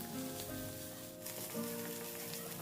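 Onion, green chili and ginger-garlic paste sautéing in a pan for a Kerala beef curry, a steady close sizzle with soft crackle and faint background hum, no talking.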